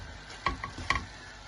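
A spoon stirring spiced beef tripe (gorur bhuri) in a pan, three short scraping clinks spaced a fraction of a second apart over a quiet background, with no talk.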